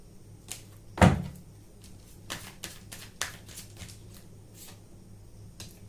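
Tarot cards being handled and drawn: soft close shuffling and papery flicks, one sharper slap near the start, then scattered light card taps, all quiet with no talk.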